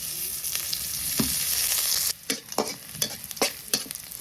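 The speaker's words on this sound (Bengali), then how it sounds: "এখন শাক ভাজি করবো পেঁয়াজ কুচি দিয়ে দেই তেল দিয়ে দিই" Chopped onion and radish greens fry in hot oil in a village kitchen: a loud, bright sizzle hisses steadily at first, then gives way to repeated scraping stirs and clattering spatula strokes against the pan.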